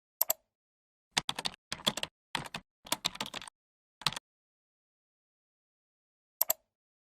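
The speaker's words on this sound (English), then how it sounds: "simply type the desired text." Keys on a computer keyboard clatter in short bursts of rapid taps separated by pauses, with one last isolated stroke near the end, close and crisp against silence.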